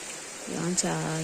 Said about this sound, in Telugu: ఎన్ని రోజులు మళ్ళీ ఇంట్లో కూర్చోబెట్టిద్దో ఈ వాన